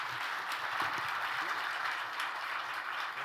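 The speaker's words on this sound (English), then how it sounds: "please give a round of applause for Peter Nowak" Audience applause for a speaker at a sports industry conference hall, a steady wash of clapping from the seated crowd, moderately distant and even throughout.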